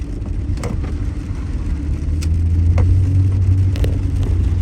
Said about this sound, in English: Is this car gonna turn with no blinkers?